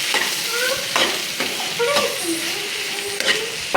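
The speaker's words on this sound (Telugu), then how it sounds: "బాగా కలుపుకోవాలి" A spoon stirs curry of broad beans, brinjal and drumstick frying in a pan, giving repeated scraping strokes over a steady close sizzle, each stir a short rough burst.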